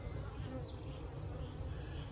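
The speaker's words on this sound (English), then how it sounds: "usually when I'm checking my bees, when you pull a frame out, they don't go like that, but now they are." Agitated honey bees at an opened hive, with frames being pulled, make a dense, steady, loud buzzing drone that fills the whole stretch without pause.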